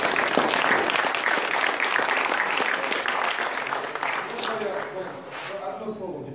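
Audience applause fills a stage hall at a business club event, dense and steady clapping that gradually thins toward the end, with faint voices mixed in beneath.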